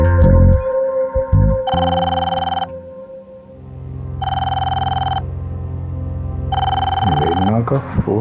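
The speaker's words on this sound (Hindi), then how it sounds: "मीना का फोन इस वक्त?" A telephone rings in three separate bursts with short gaps between them, sounding loud and close in an indoor setting, and people talk before and after the rings.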